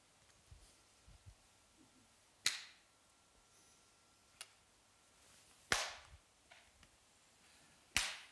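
Three sharp, isolated hand claps ring out at irregular intervals in a quiet room during a sound-direction test, each a crisp broadband crack with a short room tail and a faint extra click between.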